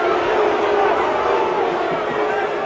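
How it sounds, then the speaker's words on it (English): Wakefield supporters boo at a 2001 rugby league cup match against Bradford, a steady, loud crowd roar that holds without a break under a commentator's voice. "The booing from the Wakefield supporters who feel that they were hard done by."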